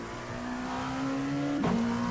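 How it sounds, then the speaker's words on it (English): A Dallara P217 LMP2 race car in the iRacing sim drones steadily as the engine climbs, then the pitch drops sharply at a gear change with a brief exhaust crackle, continuous and close, no voices. "And you can hear the exhaust as well."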